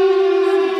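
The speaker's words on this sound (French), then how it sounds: "c'est une alarme" A loud, steady electronic siren tone from a video game sounds alone, a sustained, unwavering alarm note with bright harmonics.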